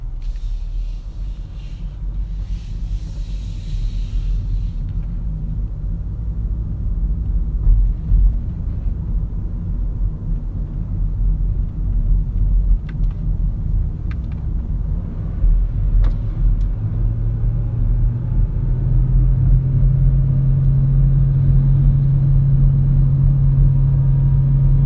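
A car rolls down a steep downhill road held back by engine braking in low gear, its engine a steady rumbling drone heard from inside the cabin that grows into a firmer, higher whine near the end.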